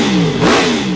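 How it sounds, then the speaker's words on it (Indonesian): Motorcycles revving at the Mandalika circuit: a loud, close engine note swells and falls in one brief rev, with a rough mechanical buzz underneath. "Di sini motor juga yang lain udah gebar-gebar"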